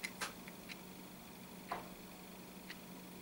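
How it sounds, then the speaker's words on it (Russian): Quartz movement ticking inside a wall clock built from a car clutch disc, a few faint, sharp ticks spaced irregularly over steady low hum, close and quiet. "мы слышим, как тикает часовой механизм"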